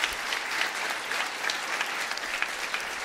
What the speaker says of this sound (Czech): Když tak lidi tleskají, ještě jim jednou zatleskejte.